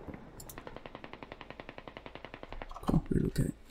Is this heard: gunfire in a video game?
yes